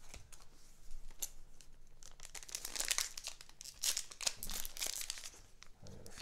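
A wrapper on a Topps 2020 MLS trading card pack is torn and crinkled open, dense close crackling and ripping that comes in bursts with a few low thumps, no speech.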